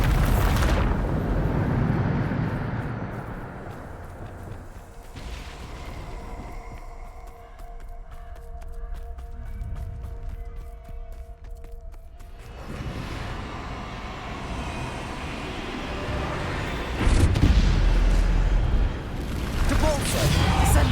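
Bombardo explosion spells in the video game Hogwarts Legacy, a series of loud booming blasts with rumbling low end, spaced across the stretch amid ongoing game noise, the biggest burst near the end.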